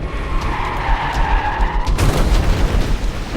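A car skids with tires screeching, then slams deliberately into a road barrier in a film scene, the skid giving way to a loud, rumbling impact with heavy low-end crashing noise.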